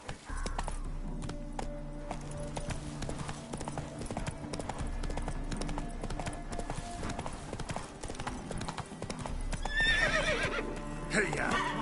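Horse hooves clip-clop at a steady galloping rhythm in The Witcher 3, with a whinny breaking out near the end over layered in-game ambience and music.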